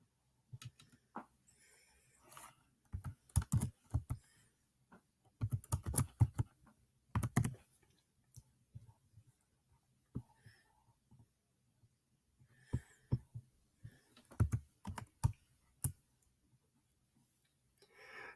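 Computer keyboard typing while a function is entered into the Desmos graphing calculator, heard as clustered bursts of key taps separated by pauses, fairly close and quiet, with no talking.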